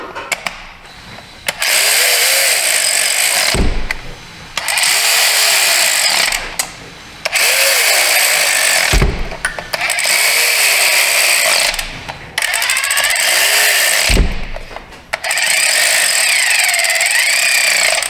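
A power tool runs in repeated whirring bursts of a second or two as it snugs up bolts on the direct fuel injectors of a 2016 Honda Pilot. Short pauses separate the loud, close bursts.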